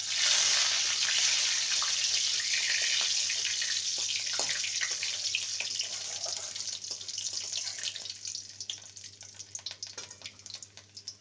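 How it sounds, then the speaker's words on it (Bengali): Whole dry red chillies, cloves, cardamom and cinnamon fry in hot oil for a tempering, a bright, hissing sizzle that is strongest at the start and slowly fades into scattered crackles, with no talking. "ফোড়নটাকে কয়েক সেকেন্ড ভেজে নেব"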